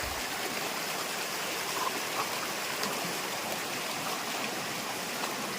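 A jungle stream flowing down from higher ground near Chalakudy, a dense, steady rush and babble of water close by, unbroken throughout with no voices.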